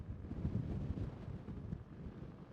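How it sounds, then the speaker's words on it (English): Outdoor wind buffeting a microphone near a new office in Poland, a low, steady rumbling gust throughout, faint and continuous with no one talking. "I hope this wind is not that bad"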